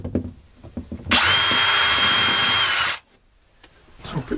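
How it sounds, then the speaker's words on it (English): A power drill whirs loudly for about two seconds in a single continuous burst, drilling pilot holes for a wardrobe rail bracket, bracketed by light handling knocks and clatter before and after. "I'm going to drill some pilot holes."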